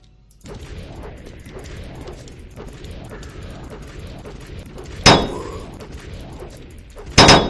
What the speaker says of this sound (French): Je bourrine le bouclier, mec.